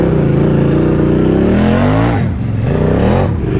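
A giant four-wheeler with big tires, stuck deep in a mud hole, revs its engine loudly and steadily up close. The pitch climbs and dips as the throttle changes, and no one talks.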